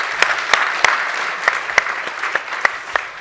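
Audience applause at a corporate tech conference session, steady close clapping from a crowd with a few sharp individual claps standing out, continuous for a few seconds.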